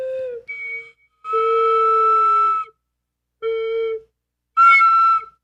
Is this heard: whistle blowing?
yes